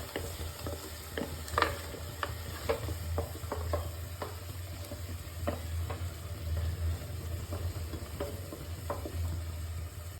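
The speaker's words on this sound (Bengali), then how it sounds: "মশলাটা থেকে তেল যতক্ষণ না ছাড়বে ততক্ষণ এটা কষাবো" Spice masala for potato curry (alur dom) being stir-fried in oil until the oil separates, with steady low sizzling under repeated sharp scraping strokes of a spatula against the pan, close and fairly quiet throughout.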